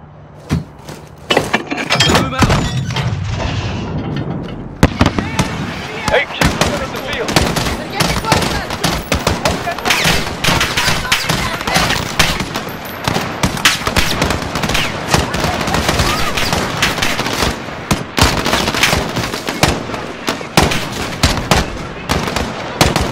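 Sustained automatic gunfire and explosions in the Call of Duty Modern Warfare (2019) Embassy mission, loud and dense for nearly the whole stretch, with shouted voices mixed into the firefight.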